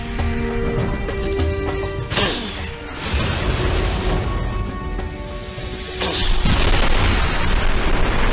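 In a game, booming cannon blasts burst out several times, each sharp crack followed by crashing, shattering debris over a dense, noisy background of rumble and clatter.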